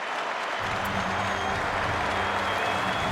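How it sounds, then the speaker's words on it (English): A stadium crowd at Cardiff's Millennium Stadium applauds at the end of a Wales against Scotland Six Nations rugby match, a steady, loud roar of clapping from thousands of spectators filling the whole stretch. "The crowd applaud."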